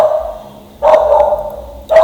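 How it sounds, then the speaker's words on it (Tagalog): A dog outside barks loudly and close by in sustained, drawn-out bouts, two long barks with a short pause between them and no talking. "pasensya na nga pala sa aso"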